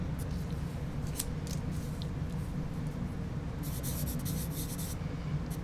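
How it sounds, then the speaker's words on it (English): A pastel pencil scratches across paper in a steady run of soft, dry strokes, with a denser burst of quick scribbling near the end, close and fairly quiet. "this is a pastel pencil. Okay, that's what I'm using."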